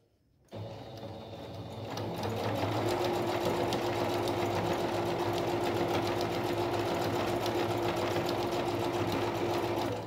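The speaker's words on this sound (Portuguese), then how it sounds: "E vamos continuar a costurar aqui, ó. Da onde a gente parou." An electric sewing machine stitches a patchwork fabric placemat, starting after a brief silence and then running steadily with a rapid, even mechanical whir and needle chatter, close and continuous.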